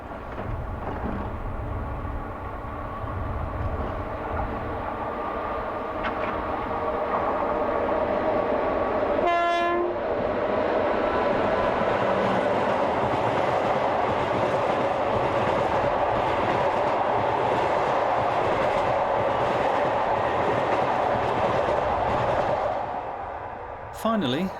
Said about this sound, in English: This one, headed by 269111, came up from Malaga and passes by at just before 10 to 12.